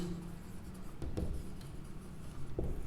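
A pen scratches steadily as determinant values are written out by hand. The scratching is faint and close, with a few louder taps and strokes over a low background rumble.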